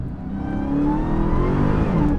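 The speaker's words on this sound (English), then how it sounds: "I had to do that full throttle in 4th gear at 40 miles an hour so that I wouldn't spin the tires" Dodge Charger SRT Hellcat Redeye Widebody accelerating at full throttle in fourth gear from about 40 mph, a loud, steady, rising engine roar held for a couple of seconds with no talk.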